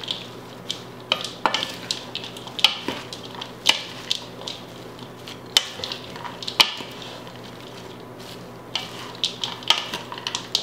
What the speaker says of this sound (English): the spoons to kind of move the salad around and try to evenly coat it with that dressing we just made